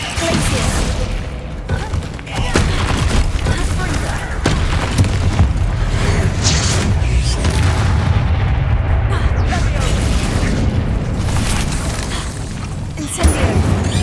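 Incendio fire spell explosions from the video game Hogwarts Legacy, a dense, continuous barrage of loud booming blasts and crackling bursts layered with other battle effects.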